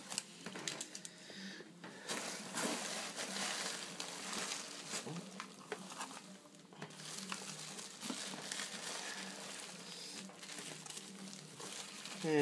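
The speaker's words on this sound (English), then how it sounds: "Got loads of shredded paper in there." Shredded paper packing rustles and crinkles close by as a parcel holding a tarantula is unpacked, with irregular dense bursts of crackling and brief pauses running through the whole stretch.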